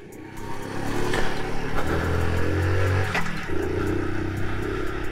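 A 2005 Honda Little Cub 50 motorcycle pulls away, its small engine revving up steadily and then shifting to a lower drone, close and fairly loud with no talking.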